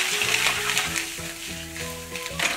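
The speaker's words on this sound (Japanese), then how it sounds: "オニオンはね、ちょっとね、しなっとするまでね、炒めてあげた方が美味しいと思います" Onions sizzling in a pan with bacon and butter for macaroni and cheese: a steady, dense crackling fry that holds close and even for the whole stretch, with faint tonal background sounds underneath.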